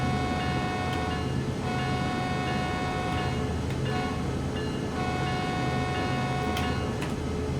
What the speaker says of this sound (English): That is your horn signal for a train is coming across a road.